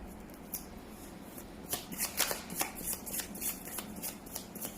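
A Pinup Girl Tarot deck is shuffled by hand, soft riffling card flutters building into a denser run of quick slaps and rustles, close and alone.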